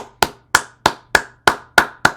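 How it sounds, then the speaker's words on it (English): Seven sharp, evenly spaced claps from a single person, close and dry, about one every third of a second, keeping a steady clap-along beat during a motivational talk. "That deserves a round of applause. If you want to clap along with me, you can."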